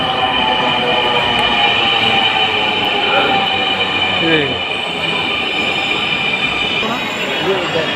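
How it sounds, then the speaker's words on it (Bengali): A second Dhaka metro rail train comes into the station. It gives a loud, continuous rolling roar with high wheel squeals and rising and falling whines over about eight seconds, and no other sound stands out. "ওই যে আরেকটা এসে পড়েছে ভিউয়ার্স, আমরা এই ট্রেনে উঠবো।"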